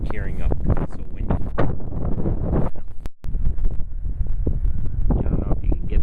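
Strong gusty wind buffeting the microphone in a snowy Chicago street after a blizzard, a loud continuous roar with a brief dropout midway, with a person talking over it.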